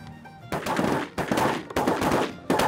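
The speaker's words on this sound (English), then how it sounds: "Nice shooting." Shotgun blasts during a sandhill crane hunt in Texas, three or four sharp loud reports in quick succession, each followed by a brief ringing tail.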